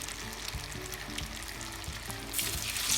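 Battered crayfish fry in hot oil with a steady, dense crackling sizzle throughout, with small bubbling pops, growing slightly louder toward the end; no one speaks.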